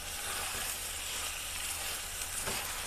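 Minced meat sizzles and fries steadily in a pan, a dense continuous crackle with a light stir scraping near the end.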